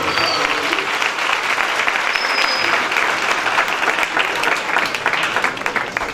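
A church audience at a Christmas program bursts into loud, sustained applause that stays dense and steady from start to finish.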